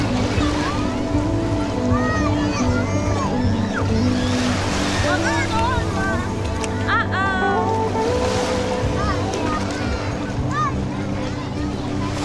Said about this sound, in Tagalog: Ayan yung itsura ng dagat.